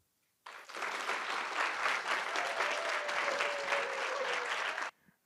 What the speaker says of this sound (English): Let's have one more round of applause for our brief winners